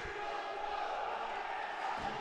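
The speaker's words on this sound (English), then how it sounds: "Stony Brook crowd getting a little rowdy out down here" Spectators at a Stony Brook college hockey game keep up a steady, rowdy crowd roar that fills the arena without a break.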